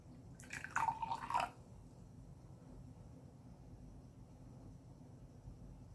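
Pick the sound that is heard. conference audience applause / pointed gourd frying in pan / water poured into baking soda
water poured into baking soda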